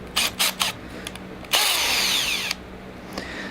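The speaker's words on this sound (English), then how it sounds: "Going to down torque the drill to basically nothing" Power drill turned down to very low torque, giving three short quick bursts, then a longer whirring run of about a second that winds up in pitch, and a brief final blip, close and clear with no talking.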